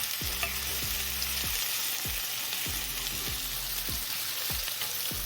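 Brussels sprouts frying in a pan with softened onion, a continuous bright sizzle with repeated light clicks of stirring and utensil taps, near and steady, no voices.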